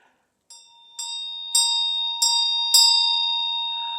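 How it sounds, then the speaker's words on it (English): A bell struck five times at a slow, steady pace during a new moon ceremony, each clear ringing tone sustaining and overlapping the next, alone with no talk. "I sound this bell"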